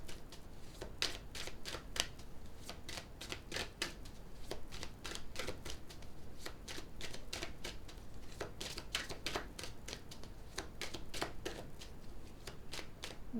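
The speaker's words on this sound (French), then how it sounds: "Je vais recouvrir ces deux cartes" Playing cards handled and laid down on a table during a card reading, a steady run of crisp, close snaps and slides repeating through the whole stretch without talk.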